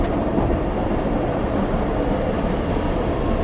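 Steady steam train rumble and rattle heard from inside a carriage on the Port Erin to Douglas line, Isle of Man, a continuous low roar with no voices.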